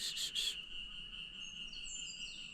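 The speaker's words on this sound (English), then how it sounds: "That's a cicada bird. You can hear that. Sounds like a cicada, like it's very insect-like." A cicadabird gives a thin, buzzing, insect-like call in a few quick bursts, then a high sustained trill carries on faintly in a quiet wet sclerophyll forest.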